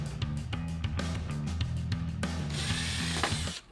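A power drill bores into a door, sounding as rapid bursts of whirring with short stops between them and then one sustained, louder run that cuts off abruptly, close by and with no talking.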